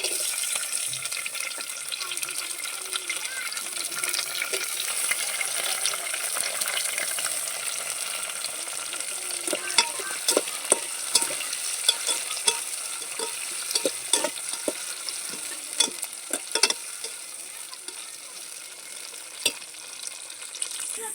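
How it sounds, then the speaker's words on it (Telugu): Tomatoes and onions fry in a pan with a steady, soft sizzle, punctuated by scattered stirring clicks and scrapes, with no talking. "ఇప్పుడు టమాటాలు వేస్తాం ఎర్రగడ్డలు కూడా వేగుతున్నాయి"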